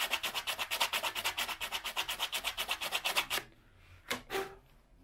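Sandpaper rubs along a PVC pipe being smoothed for a homemade transverse flute, in a quick, regular series of close rasping strokes that stop abruptly, followed by a few isolated scrapes and a soft thud.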